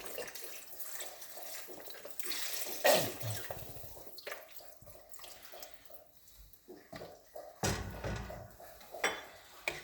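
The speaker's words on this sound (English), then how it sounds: "we are going to add the rest of the broth" Broth poured into a pot of homemade vegetable soup, a steady liquid gush with a louder splash near the start and uneven pouring and dripping that swells again toward the end, close and fairly quiet.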